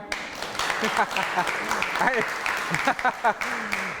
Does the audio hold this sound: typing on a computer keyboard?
no